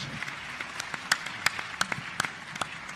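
Light, scattered clapping from a small summit audience, soft and brief, with sharp individual claps over a quiet background.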